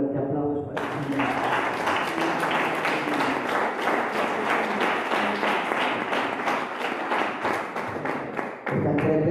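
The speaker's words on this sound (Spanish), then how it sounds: "Dale un fuerte aplauso para el Señor" A church congregation bursts into sustained loud applause after a call to praise the Lord, dense clapping filling the room for most of the stretch before cutting off abruptly near the end.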